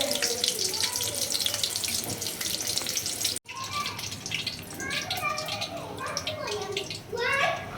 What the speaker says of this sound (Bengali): শুটকিতে বেশি বালি থাকে তাই ভালো করে ধুয়ে নিতে হবে